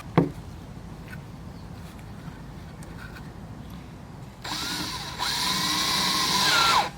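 A power drill drives 3-inch screws into the wooden legs of a garden table, a few faint knocks and then a rising whine of the motor as a screw bites in near the end.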